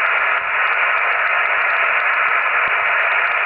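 Yaesu FT-100 amateur radio receiver tuned to the empty 40 metre band, giving a constant loud wash of static hiss with slight flutter and no voices or signals.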